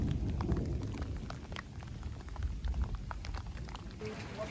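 During a Himalayan mountain thunderstorm, hailstones patter in scattered, irregular ticks against a low rumbling background, moderately faint with no voices.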